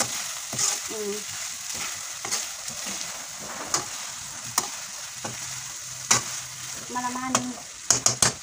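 Food fries in a pan with butter sauce under a soft, steady sizzle, while a utensil stirs and scrapes against the pan in scattered sharp clacks, with faint bits of voice now and then.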